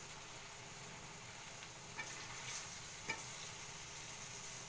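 Rasabora fritters made with date-palm jaggery frying in hot oil, giving a soft, steady sizzling hiss with a couple of faint pops; no voices.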